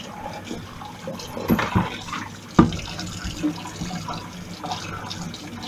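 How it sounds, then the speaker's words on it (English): Tap water running into a kitchen sink during washing up, a steady low splashing wash with a few soft clinks and knocks of dishes, close and fairly quiet, without speech. "You can do all your washing up before you start eating."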